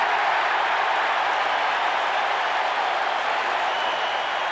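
Stadium crowd at a Chicago Bears at San Francisco 49ers football game, reacting to a penalty flag with a dense, steady roar and scattered clapping, loud and unbroken across the whole stretch.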